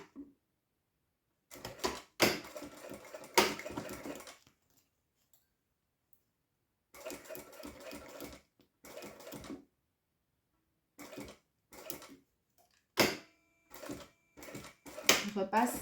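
A domestic sewing machine stitches fabric for a zippered pencil case 1 cm from the edge, running in several short rattling bursts separated by pauses.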